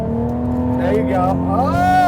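A Ford Mustang being drifted, its engine droning loudly and rising and falling in pitch as it revs, with excited voices over it.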